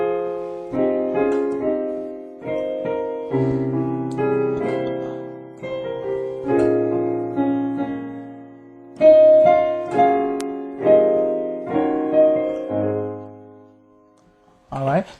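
Keyboard plays the second part of a song in its original key, a sequence of sustained chords over a low bass line with phrases restarting every few seconds, loud and close, ending on a brief lower figure.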